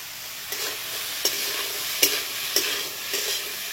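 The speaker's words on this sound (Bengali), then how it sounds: "এবার এটাকে ভালো করে ভেজে নেব।" Cumin powder and a pinch of chili powder frying in a pan: a low, steady sizzle punctuated by four or five sharp spatula scrapes at irregular intervals, with no talking.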